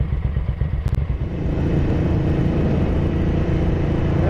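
A Ducati 900SS bevel-drive motorcycle engine idles at its lowest throttle, a loud, close, steady thrumming with a rough, slightly uneven pulse throughout.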